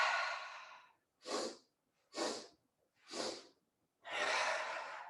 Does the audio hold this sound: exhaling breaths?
yes